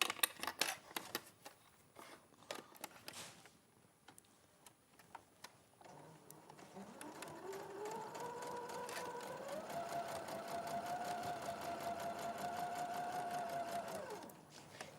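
A sewing machine stitches down the side of a piece of fabric, a quiet ticking at first, then a steady whirring run of several seconds that stops abruptly.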